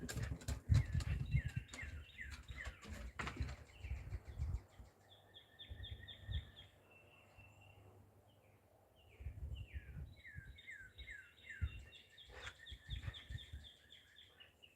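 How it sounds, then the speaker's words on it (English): Several birds chirp and trill in repeated short phrases by Bull Shoals Lake, fairly close, over faint low rumbling and occasional thumps; no talking. "let's hear them birds for a second"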